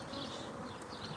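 Honey bees buzz in a steady, dense drone as a package colony is shaken into a new hive, the hum close and continuous throughout the short moment.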